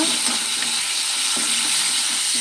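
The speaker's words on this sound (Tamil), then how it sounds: "தக்காளியை போட்டுவிட்டு நல்லா ஸ்மாஷ் பண்ணிக்கோங்க" Tomatoes for drumstick sambar sizzle in a hot pan while being mashed, a steady hissing fry with soft rhythmic squelching presses from the spoon, close and alone without talk.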